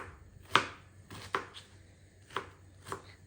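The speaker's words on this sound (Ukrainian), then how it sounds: "Нарізаю цибульку." Four sharp knife chops through onion on a board, spaced irregularly about a second apart, close and crisp against a quiet background.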